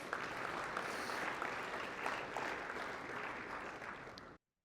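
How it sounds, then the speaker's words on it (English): Audience applause for Dr. Howard after a lecture, a steady wash of many hands clapping at a distance and fairly faint, continuing for about four seconds before cutting off abruptly. "Let's give him a round of applause again."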